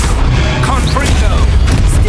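A Confringo spell explodes in Hogwarts Legacy with a loud, booming, gunfire-like blast and crackling bursts packed into about two seconds.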